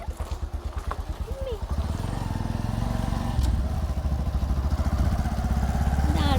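A motorbike engine throbs steadily and close, rising slightly as the ride gets under way, with a person talking over it briefly at the start.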